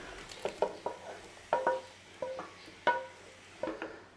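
Goat meat browning in a pan for Jamaican goat curry, quiet and close: soft intermittent sizzles and scrapes with a few light metallic clinks of stirring, no speech.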